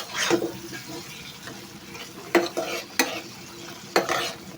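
Vangan fish sizzles as it fries in a pan while a spatula scrapes and stirs, with sharp clacks against the pan at irregular intervals.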